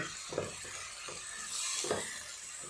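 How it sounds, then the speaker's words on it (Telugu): Masala stirred and frying in a pan for an Andhra-style pulusu, a soft continuous sizzle with a few scraping strokes of a spoon, close and brief, with no voices. "బాగా కలుపుకొని బాగా పచ్చివాసన పోయేంత వరకు మసాలాని బాగా వేపించుకోవాలి వేగనివ్వాలి"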